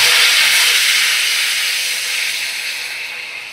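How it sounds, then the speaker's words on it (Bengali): Water is poured into a hot pan of spices for a Bengali fish curry, bursting into a loud, close steam hiss that slowly fades. "এবার দেখো পরিমাণ মতো জল দিয়ে দিচ্ছি।"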